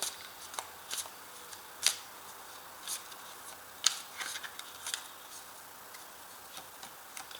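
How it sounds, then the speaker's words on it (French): Tarot cards being handled and laid down on a surface, with soft, sparse flicks, taps and slides of cards at irregular intervals, close and quiet. "Alors je vais rajouter une carte dessus."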